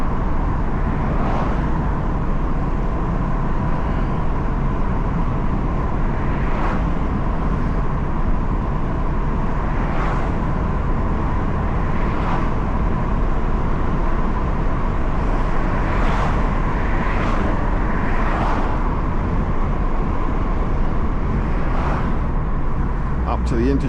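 A Mazda MX5 drives along a dual carriageway, its engine a steady loud drone under road and wind roar, with several brief dips and surges as it shifts up through third and fourth gear.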